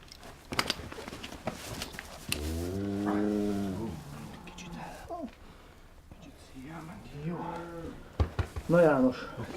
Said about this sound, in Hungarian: Szép tehén, szép nagy tehén.